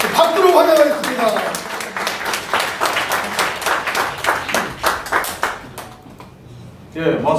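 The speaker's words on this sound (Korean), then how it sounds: "박수로 환영하겠습니다" A crowd at a Korean patriotic rally claps in welcome for an arriving guest, a burst of sharp, rhythmic claps under a speaker's voice that fades out, followed by a brief pause before talk resumes.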